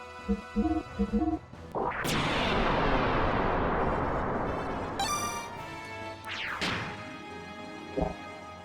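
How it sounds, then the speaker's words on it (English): A video game explosion in Xenogears sounds as a loud, sustained blast with swelling roar and sweeping tones, preceded by short game sound effects and followed by further bursts and fading effects, with no talking. "Explosion."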